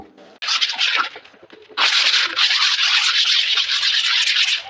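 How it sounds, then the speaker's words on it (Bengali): Sandpaper rubbed across a wall being prepared for painting, giving a short scratchy burst, a pause, then a longer continuous stretch of rasping strokes up close. "আমরা ওয়াল ঘষে নিচ্ছি খুব সুন্দর করে ওয়ালগুলো ঘষে নেব"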